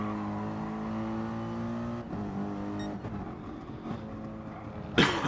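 Race cars howl closely together around Brands Hatch GP Circuit, a steady loud engine drone with gear-change shifts and a sharp burst near the end, under no talk.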